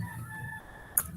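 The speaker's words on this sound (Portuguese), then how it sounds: "O galo tá bem louco aqui perto da casa, tá cantando." A rooster crowing close to a house, its drawn-out call heard clearly and alone, ending with a couple of sharp short clicks.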